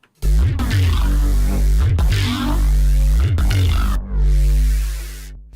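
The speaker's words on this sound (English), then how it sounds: "the fuse compressor is pulling up all of the analog noise floor from those distortion devices" Analog noise floor from distortion devices, pulled up by a compressor, swells as loud throbbing droning hum in repeated surges with brief gaps between them, and no talking.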